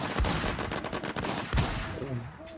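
Gunfire in a PvP video game: rapid bursts of close, loud automatic shots in a quick rhythm over the first second and a half, then another burst before the firing trails off.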